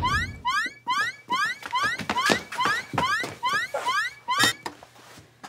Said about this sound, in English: An alarm? It sounds like it's coming from the hub.